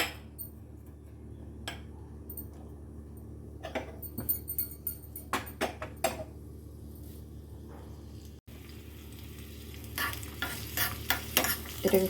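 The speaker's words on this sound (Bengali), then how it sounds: "শুকনো লঙ্কার ফোড়ন দেব" Garlic and dried red chillies sizzle softly in hot oil in a pan, with a spoon scraping and stirring in irregular clinks and scrapes that grow busier toward the end.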